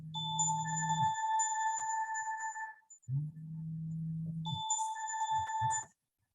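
A phone rings with an incoming emergency call, its electronic ringtone repeating in two tonal bursts separated by a short gap, clear and close, with a low hum under each burst and no speech.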